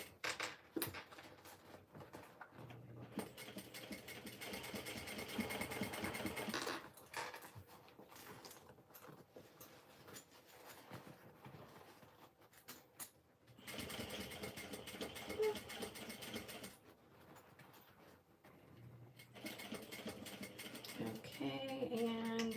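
A sewing machine backstitches on a beachcomber pouch in bursts of rapid mechanical whirring, several seconds each, separated by quieter pauses with handling noises, fairly close and moderately loud.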